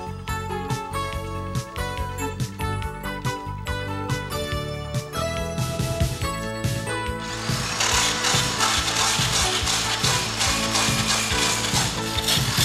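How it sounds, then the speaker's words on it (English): Grinding removes excess solder from a dented steel car panel. Mechanical whirring and clattering build into a harsh, sustained, loud scraping roar during the second half. "Remove any excess solder by grinding."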